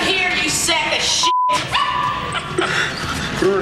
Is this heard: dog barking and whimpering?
yes